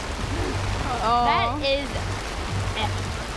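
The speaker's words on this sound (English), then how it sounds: "you can see the rain splashing around" Rain falls at the Blizzard Beach water park in Florida, a steady hiss of splashing drops under people talking.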